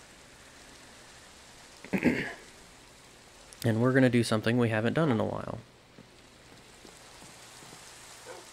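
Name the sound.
rain falling in the video game Minecraft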